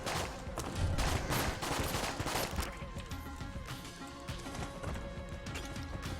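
Rapid gunfire from the video game Enter the Gungeon, a dense and steady stream of overlapping shots and impacts that lasts the whole stretch with no talking.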